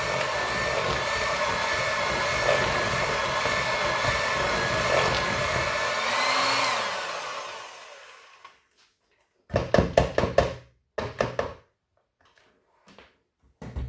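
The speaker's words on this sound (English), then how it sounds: "So you whisk until it is, you can't see any lumps, so it's nice and smooth." An electric whisk mixes coffee cake batter, a steady motorised whirr that fades out after about eight seconds, followed by a few short bursts of whisking and then quiet.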